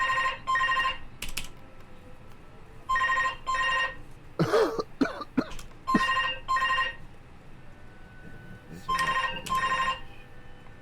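A telephone rings in repeated double bursts, three ring pairs spaced a few seconds apart. A short flurry of clicks and clatter sits between the first two pairs, over a quiet room background.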